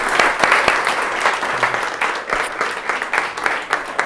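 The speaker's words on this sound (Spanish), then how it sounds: "Fuerte el aplauso, Dani," Applause from a live audience at a talk on viewing reality from different perspectives, dense and steady for several seconds with some sharper individual claps standing out, fairly close and loud.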